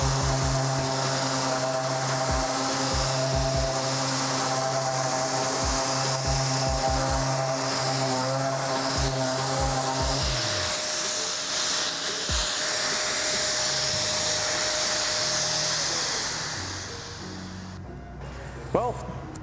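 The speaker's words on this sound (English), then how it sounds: "Let's sand." A sander fitted with Mirka Abranet Ace net abrasive works wood, giving a loud, continuous whirring drone with low rhythmic pulses; the pitch shifts midway before the motor winds down near the end.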